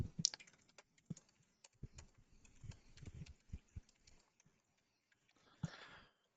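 Quick, irregular keystrokes on a computer keyboard as a slide title is typed in LibreOffice Impress, close and fairly quiet, with short bursts and pauses and a sharper clack near the end.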